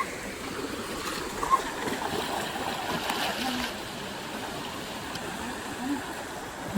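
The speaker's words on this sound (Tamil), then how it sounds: "இங்கே விழுந்து தண்ணி அப்படியே அங்கே அருவி மாதிரி ஊற்றிட்டுருக்கு." Water spilling over rocks like a small waterfall in the Kolli Hills, a steady rushing splash heard from nearby, with faint voices in the background.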